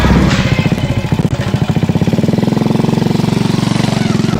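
A motorcycle engine runs close by with a loud, rapid, steady putter that holds an even pulsing rhythm for the whole stretch.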